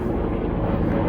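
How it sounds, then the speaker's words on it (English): An aircraft or helicopter passes overhead as a loud, steady low rumbling drone, continuous and unbroken, with no talking heard. "aircraft, helicopter."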